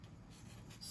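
Zig Clean Color dot marker tip scratching across paper while writing, a faint, brief papery rub with soft irregular strokes, close and quiet.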